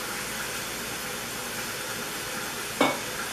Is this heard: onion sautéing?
yes